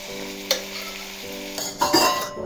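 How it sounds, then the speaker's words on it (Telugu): Rice is stirred into a tomato mixture in a pan for tomato rice, a steady sizzle with scraping spoon strokes and a couple of sharper clinks against the metal, up close with no talking. "రైస్ వేసి కలుపుతున్నానండి."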